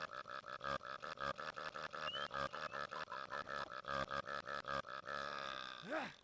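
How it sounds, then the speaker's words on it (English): A video game character lets out a long, rhythmic run of loud burps, dozens of quick pulses in a row, ending in a stretched, warbling belch. "And we're just gonna get the burp achievement,"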